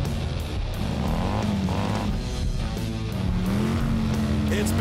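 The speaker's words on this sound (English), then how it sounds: "both trucks hit the gas and neither of them are fazed by the raiding asteroids" Monster trucks Bigfoot and Demo Derby accelerating in a Hot Wheels animated race, engines droning loud and rising in pitch with some tire squeal, a voice talking over the noise.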